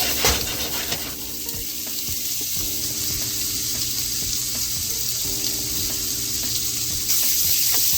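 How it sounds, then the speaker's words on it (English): Cut-up beef sausage searing in a pan, part of a spaghetti dish, giving a steady, close sizzle with faint clinks and stirring noises running through the whole stretch. "Now I'm just gonna let these sausages sear for about 5 minutes or until they got a little crisp on them."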